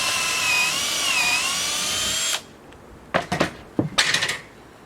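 A drill whines steadily as it bores a hole through wood backed by a scrap backstop, then cuts off abruptly, followed by several clattering knocks of wood and tools being handled.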